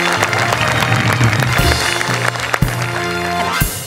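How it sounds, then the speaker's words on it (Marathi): Audience at a Marathi television comedy show applauding loudly to welcome a guest, steady close clapping that fills the moment with a few sharper accents. "जोरदार टाळी त्यांचं स्वागत करूया"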